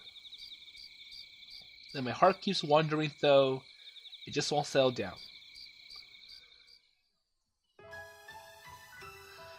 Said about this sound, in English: The humid air is filled with many noisy croaks of frogs.